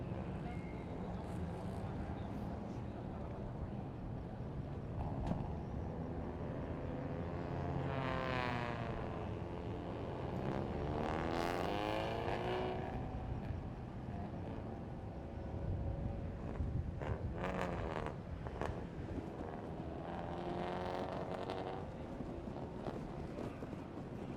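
Toyo Tires Special Car race cars crawl into formation at Bira Circuit in Pattaya, their engines rumbling and rising in several rough sweeps under steady wind noise and a faint commentator's voice.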